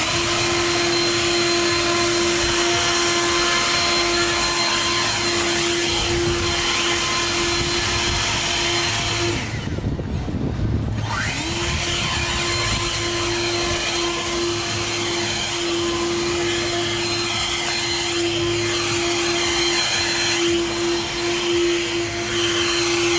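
An EGO cordless battery backpack leaf blower runs loud and steady with a constant high-pitched whine, briefly cutting out near the middle before spinning back up to full power.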